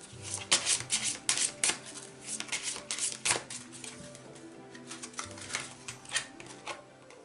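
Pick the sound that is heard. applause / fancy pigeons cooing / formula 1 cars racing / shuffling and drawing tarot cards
shuffling and drawing tarot cards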